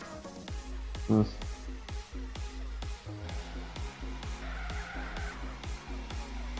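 Sports car in a GTA-style role-play video game drives with a droning engine and repeated rhythmic thumps, briefly squealing its tires in a short skid near the start, steady and close throughout.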